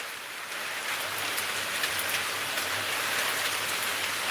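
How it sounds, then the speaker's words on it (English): Heavy rain pelts down steadily during Cyclone Remal. The dense, hissing downpour is close and continuous, with no voices heard. "It's literally pelting down here right now"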